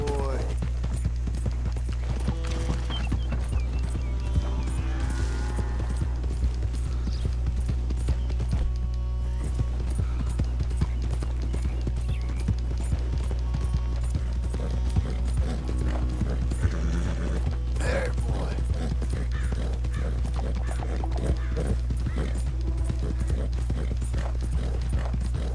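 A horse gallops across the open country of the video game Red Dead Redemption, its hooves beating a steady, rhythmic clip-clop for the whole stretch, with in-game voices and background sound running underneath.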